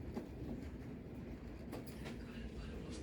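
A train carries passengers on a 45-minute ride into Budapest, a faint, steady rolling rumble with light rhythmic clatter from the wheels and no talking.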